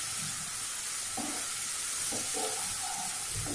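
Chopped onion and garlic fry steadily in a hot pan for a Rajasthani masala tinda, giving a soft continuous sizzle with occasional stirring scrapes, close and unaccompanied by voices.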